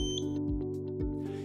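A motorized outdoor shade gives a high electronic beep tone at the start over a steady motor hum, with a couple of low thumps as the shade jogs.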